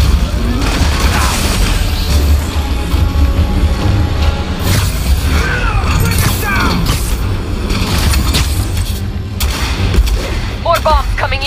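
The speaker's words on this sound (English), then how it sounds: "More bombs coming in." Bombs explode in the Spider-Man Remastered video game, a dense barrage of booms and crashing blasts with gunfire-like bursts, continuous and loud, mixed with game music and effects.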